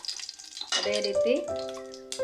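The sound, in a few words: masala frying in oil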